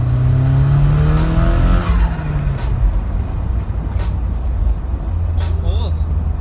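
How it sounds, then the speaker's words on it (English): A car fitted with a big turbo accelerates hard in second gear, its loud engine drone rising steadily in pitch up close before easing off, with a voice speaking over the roar. "This is a second gear pull."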